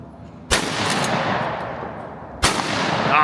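A shotgun fires at a sporting clays target outdoors, two loud sharp blasts about two seconds apart, each trailing off into a rolling echo, no voices.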